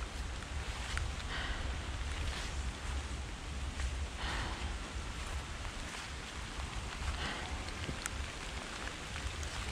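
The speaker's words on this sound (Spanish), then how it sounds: "Está cayendo la lluvia." Steady rain falls in Parque Santa Inés in Valdivia, a dense, continuous hiss of drops on leaves and ground among very tall trees, with no talking.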